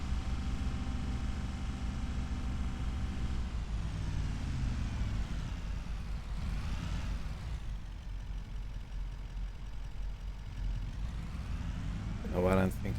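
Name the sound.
logging truck driving in a video game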